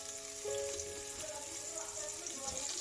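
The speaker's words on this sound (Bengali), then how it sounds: "এই উচ্ছেগুলো ভেজে নেব।" Bitter gourd fries in a pan with a soft, steady sizzle at low level, a faint hum running underneath and no speech.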